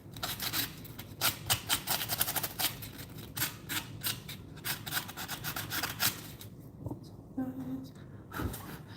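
A file rasps back and forth on a metal rivet, removing a burr in quick repeated strokes, close up, then stops; a voice murmurs faintly toward the end.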